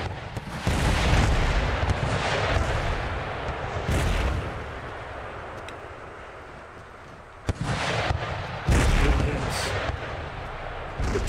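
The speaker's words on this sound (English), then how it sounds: "let all our artillery carry on engaging the mortars. Another, another broadside effectively coming in." Artillery broadside firing in the Empire: Total War battle game, heavy booming cannon blasts arriving in irregular clusters with rolling rumble between them, loud and sustained across the scene.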